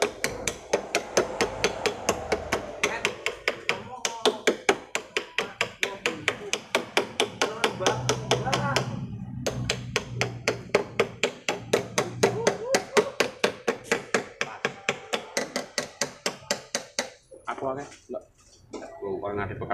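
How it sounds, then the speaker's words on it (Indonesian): A hammer taps repeatedly on the engine parts of a Toyota Innova that shakes and sputters, giving a fast, steady run of sharp metallic knocks with short pauses, close and loud, while someone talks over it. "kita ketok-ketok ya. Biar tambah kena getaran dia"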